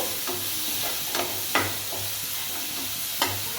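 Chopped onion fries in a pan for a prawn masala, giving a steady close sizzle broken by a few sharp scrapes as the pieces are stirred.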